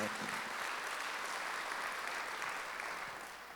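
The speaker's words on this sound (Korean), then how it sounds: "박수를 하나 더 해주세요." A church congregation applauding during a Sunday service, a dense steady wash of many hands clapping that continues throughout and begins to fade at the end.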